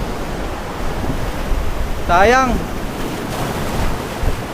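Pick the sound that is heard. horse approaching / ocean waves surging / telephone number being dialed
ocean waves surging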